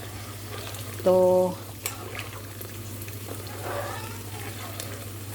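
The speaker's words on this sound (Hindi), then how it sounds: "तो अब मैं और पानी ऐड कर रही हूँ, जो मैंने ये केटल में भरा गरम किया हुआ है" Hot water from a kettle is poured into suji seera cooking in a pan. It makes a short burst of sizzling and bubbling, followed by softer stirring and simmering, and a brief word is spoken.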